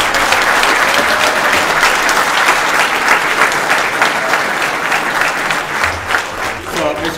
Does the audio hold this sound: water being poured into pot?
no